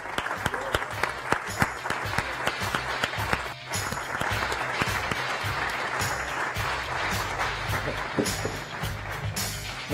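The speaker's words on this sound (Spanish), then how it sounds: "Un fortísimo aplauso de pie todos para Luis Martín Caviedes." A standing ovation for a speaker at a startup event in Barcelona, with dense, sustained clapping from a large crowd that stays loud and even throughout.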